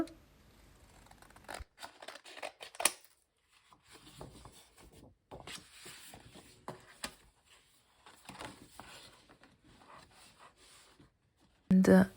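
Scissors snip through tea packaging being trimmed into a vintage junk journal topper, with a series of close, quiet cuts and paper rustling. A louder bump comes near the end.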